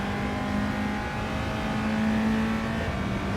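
Honda Civic on soft racing tyres, driven in Gran Turismo 7, gives a steady, loud engine drone that holds at an even pitch throughout, with no one talking.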